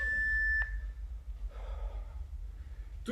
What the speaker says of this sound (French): Jusqu'au bip.